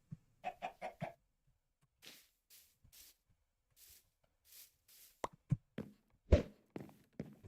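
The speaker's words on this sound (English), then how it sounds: "Oh, we got a chicken." Minecraft chicken clucking in a few quick bursts near the start, followed by sparse soft footsteps and scattered clicks, with no one talking.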